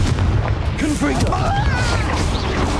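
A Confringo fire spell bursts in Hogwarts Legacy on the Switch, heavy booming blasts rolling continuously beneath a busy layer of game voices and combat noise.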